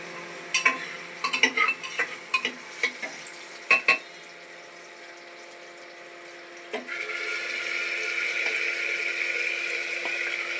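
Vegetables frying in a pan and being stirred, with sharp clinks and scrapes over the first few seconds, then a steadier sizzling hiss that swells toward the end, close and without voices.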